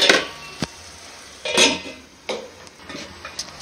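A spatula scrapes and clinks against a pan while spice powder fries for tomato gojju, giving a few sharp metallic knocks and scrapes over a quiet, steady background hiss, with no talking.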